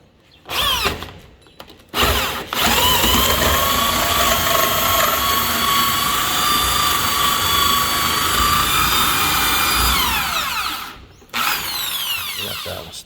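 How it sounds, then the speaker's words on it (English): Power drill boring into aged teak wood, a loud steady whine running about eight seconds with brief spin-ups before and a shorter burst after, the pitch sliding as the bit bites. "So now I need to drill these from the other side."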